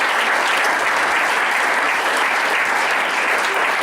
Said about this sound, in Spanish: Ofrenda de aplausos al Señor.